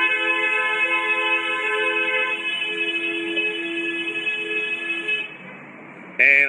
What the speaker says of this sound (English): whoever honks the longest, wins